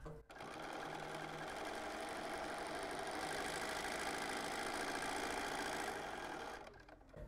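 A sewing machine stitches and backstitches fabric in one continuous, close, rapid mechanical whir lasting several seconds, starting and stopping abruptly with quiet on either side.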